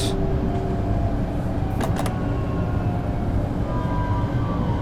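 A train in Train Sim World 2 on the Cologne–Aachen high-speed line rumbles on steadily with a loud low drone, and two brief rattling clicks come near the middle.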